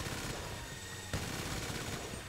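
Rapid gunfire in Grand Theft Auto V, a dense continuous barrage of loud shots with a sharper burst in the middle, no talking over it.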